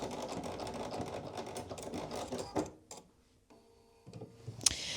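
A sewing machine back stitches twill tape onto a hoodie, a quiet steady mechanical whir that stops abruptly midway, followed by faint clicks and handling noises.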